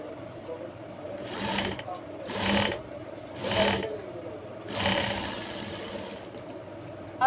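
Four short, evenly spaced runs of a sewing machine stitch a jumpsuit neckline, each a rising mechanical whir over a low background hum.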